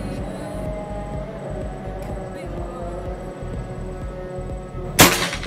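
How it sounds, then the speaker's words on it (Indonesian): A PCP air rifle, a prototype short-barrel model, fires one sharp crack about five seconds in, standing out loudly above steady low background rumble. "ini tembakan terakhir"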